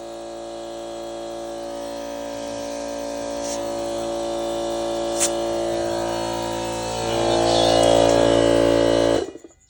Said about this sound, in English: Let's shut off the air compressor.